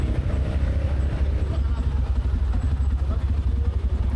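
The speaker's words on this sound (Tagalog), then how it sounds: "Ang harap kong motor." A Honda X-ADV scooter rides along with a steady low engine drone and road rumble throughout, loud and close.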